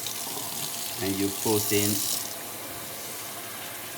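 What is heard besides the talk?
warm tap water poured for pizza dough yeast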